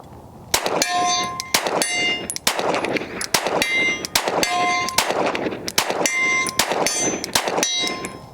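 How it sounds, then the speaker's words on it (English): A 9mm handgun fires at a steel target 50 yards away, about a dozen sharp reports at an uneven steady pace, each followed by a ringing metallic clang from the distant plate. "I'm able to hit that target from this distance with, you know, a 9mm handgun"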